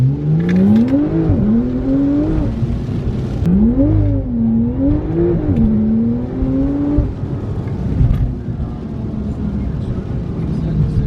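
A turbocharged 2020 Toyota Supra with a bigger turbo installed revs and pulls hard, its pitch rising and falling through gear changes, with people talking loudly over the steady road roar.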